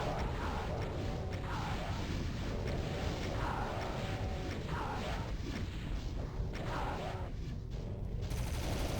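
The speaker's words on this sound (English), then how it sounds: "rocket down the remaining Hell Knights" Rocket launcher fire against Hell Knights in Doom II, on a UV-Max run of Formless Mother Map03: a dense, loud, continuous barrage of blasts and explosions layered with other gunfire and mechanical clatter, running throughout with no pause.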